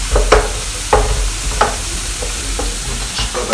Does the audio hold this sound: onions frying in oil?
yes